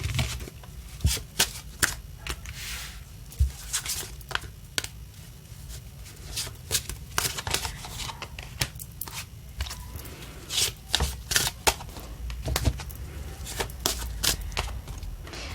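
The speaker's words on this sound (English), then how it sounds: "Another shuffle, they say." Tarot cards are shuffled over and over in quick riffling bursts, separated by short pauses and soft handling noises, close up and clear.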